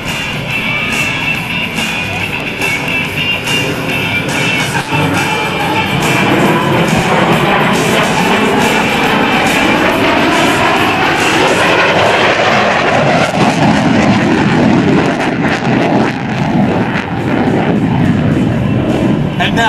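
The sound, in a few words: F-14 Tomcat jet performing airshow maneuver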